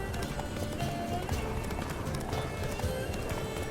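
Geralt's horse gallops in The Witcher 3, hooves clip-clopping in a quick, steady rhythm close by, with an occasional snort or whinny and game ambience beneath.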